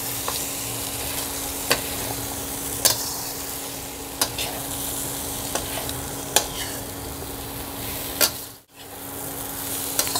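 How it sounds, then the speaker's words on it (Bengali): Okra and chickpeas sizzling in a pan while a spatula stirs them, a constant close crackle broken by sharp scraping clicks every second or so, with a brief drop near the end and no talking. "সব দিয়ে আবার একটু নাড়াচাড়া করব।"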